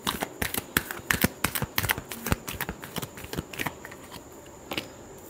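Tarot cards are shuffled close by, a quick run of crisp riffling flutters and taps that thins out toward the end, with no talking.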